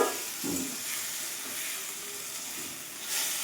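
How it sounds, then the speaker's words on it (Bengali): Steady sizzling and hissing from a hot pan as soaked rice is stir-fried, with a few soft scrapes, under a constant whooshing background. "চালটাকে ভালো করে ভাজা ভাজা করে নিব"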